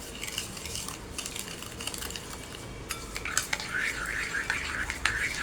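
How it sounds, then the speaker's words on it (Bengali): Sugar being stirred into eggs in a bowl, a continuous close scraping and clinking of a utensil against the bowl, with faint liquid swishing that grows busier toward the end. "এখন আমি এটাকে ভালো করে মিক্স করে নেব।"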